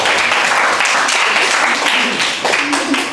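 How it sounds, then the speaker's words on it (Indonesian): A high school class claps together, a loud continuous burst of applause filling the room for the full stretch with slight dips near the end. "Oke, tepuk tangan dulu ya."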